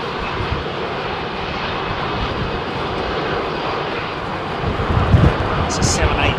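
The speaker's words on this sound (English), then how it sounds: "British Airways 787-10 coming out" A British Airways Boeing 787-10 taxis out at London Heathrow on a windy day, its engines giving a steady broad roar with gusty wind buffeting the microphone and a slight rise toward the end.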